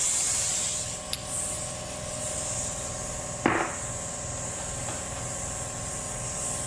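A setup nut is taken off a Mustang differential: a faint rasping rub, a single sharp metallic click, and one short scrape of the nut coming loose, set against a steady background hiss.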